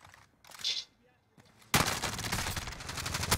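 Rapid gunfire in a video game bursts in loud and sustained after a short voice exchange and a quiet gap, continuing as a dense rattle to the end.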